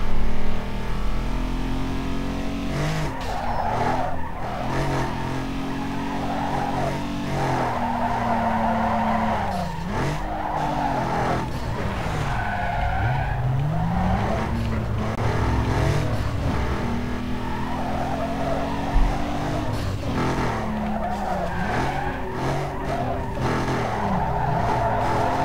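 Car engine revving and tires skidding in the racing video game NFS Underground 2, with repeated loud squeals and shifting engine pitch through turns, steady and continuous.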